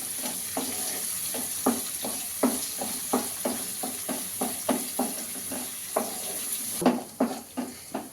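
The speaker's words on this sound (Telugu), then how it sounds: "ఇవైతే కొంచెం బ్రౌన్ కలర్ వచ్చే వరకు వేపుకోవాలి" Green chillies fry in a pan until brown, a steady sizzle under repeated rhythmic scrapes of a stirring spoon, close and fairly loud, with no one speaking.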